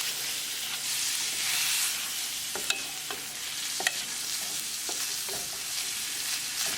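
Lobster being stirred with salt, black pepper and red chili flakes in a pan with olive oil and butter, a steady sizzle with scraping spoon strokes and clinks at irregular intervals, close and moderately loud, no talking.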